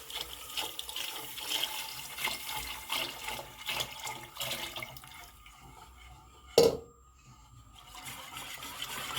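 A liter of milk is poured into a pot and whisked to keep it smooth, giving a close, steady liquid swishing and sloshing with a brief sharp clink near the end.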